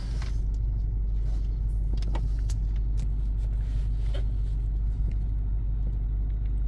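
Low steady rumble of a Mazda 3 idling in drive with the air conditioning running and a low-idle fault, P0506, heard from inside the car, with a few faint clicks and rattles over the drone.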